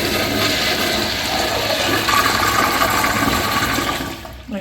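A first-generation American Standard Jetbrook urinal flushes up close in a continuous rushing wash of water that runs steadily for several seconds, then tapers off near the end, with no voices.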